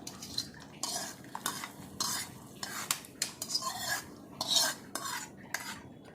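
A spoon stirs rava payasam with ghee-roasted dry fruits in a metal pot, scraping and clinking in irregular strokes at close range, with no voices.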